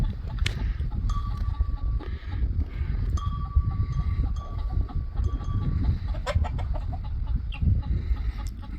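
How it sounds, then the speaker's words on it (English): A hen clucks close by on a farm, giving short repeated calls against a low, noisy outdoor rumble, with sharp knocks and a sustained tone coming and going. "Now the hen's getting a little closer."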